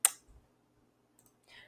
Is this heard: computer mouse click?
yes